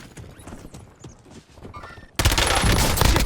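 Gunfire in the Warzone video game: scattered light shots and clatter give way to a sudden loud, sustained burst of rapid fire that fills the end of the stretch.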